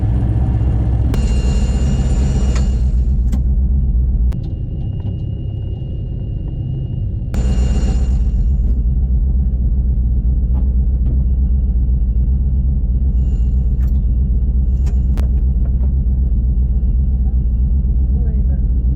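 A tuned drag car engine idles with a rough rumble and scattered sharp pops, plus two longer bursts of hiss. People talk over it throughout.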